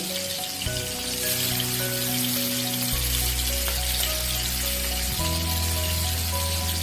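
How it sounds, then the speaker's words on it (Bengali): Prawns lightly sautéing in hot oil for a banana-stem prawn pakora snack give a steady, loud, close sizzle that hisses evenly throughout, with a faint low hum underneath. "আমার তেলটা গরম হয়ে গেছে, আমি চিংড়ি মাছগুলো ভেজে নিই, হালকা জাস্ট সতে করব।"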